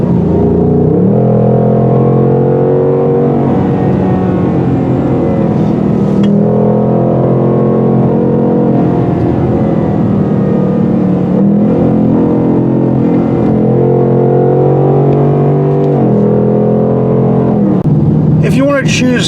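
A 2021 Ford Mustang Mach 1 with automatic transmission in sport mode, accelerating and shifting quickly; a loud, sustained engine drone rises and drops through several gear changes while a voice talks over it.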